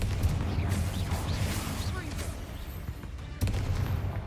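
A blasting curse firing during a tomb fight in Hogwarts Legacy, with rapid booming and crackling bursts under game sounds and a speaking voice, plus a sharp blast near the end.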